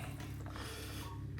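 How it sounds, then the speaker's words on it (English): A wiring connector on a Toyota Tundra sequential taillight clicks into place, a small mechanical snap over a steady low hum with no voices. "Push it in until you get a snap."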